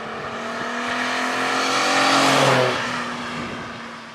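A Fiat Dino Spider engine while driving, a rich, smooth drone that swells in loudness through the middle as the car accelerates, then eases off, heard alone without talk.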